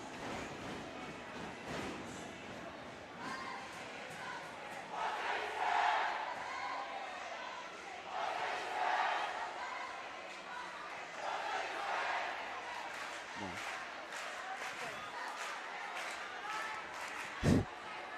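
Loud student section crowd noise at a varsity high school basketball game, North Polk versus Grand View Christian, a sustained roar that swells and recedes in waves, with a sharp bang near the end.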